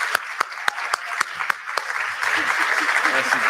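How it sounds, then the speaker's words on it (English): Audience applause at a state bar association annual meeting inauguration of officers, a few sharp loud claps at first swelling into sustained clapping from a room full of people. "So I want to give you one more round of applause, Chief Justice Melton."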